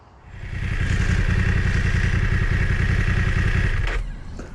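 A BMW F900R motorcycle pulls away, its engine rising quickly to a steady, loud, close drone and then dropping off near the end.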